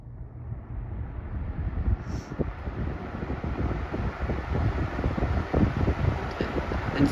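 A vintage 1998 Weatherworks DB-888 fan running on high, giving a steady, loud broadband whoosh of rushing air with a low rumble, continuous and close throughout, with no talking.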